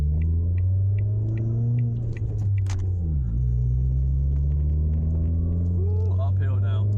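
A 1.4 Ford Fiesta drives uphill, its engine revving hard in a deep, steady droning rumble that dips briefly and then climbs again, heard from inside the car with voices talking over it.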